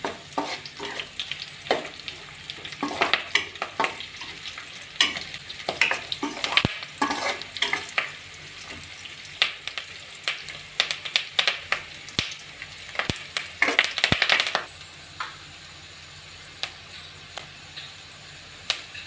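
Slit green chillies and curry leaves crackle and sizzle in hot oil for a mushroom masala curry, with frequent sharp spatula scrapes and taps against the pan. The stirring stops toward the end, leaving a quieter sizzle.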